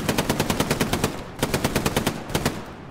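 Machine gun fire in the video game Hell Let Loose rattles in two rapid, loud bursts of evenly spaced shots, close up, with a brief pause between them.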